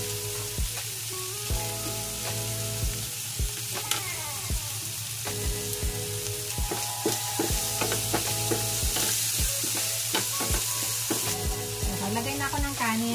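Garlic and luncheon meat fry in a pan, sizzling steadily for the whole stretch with frequent close scrapes and clinks of a spatula stirring against the metal.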